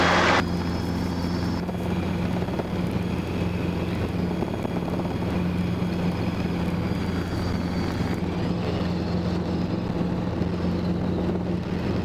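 A Robinson R22 helicopter in flight drones steadily with a deep rotor hum and engine whine, wind rushing over the microphone; the tone shifts slightly partway through.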